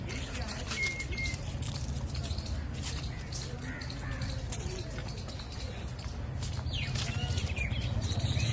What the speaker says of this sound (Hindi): चिड़ियों की चहचहाट इज पीस।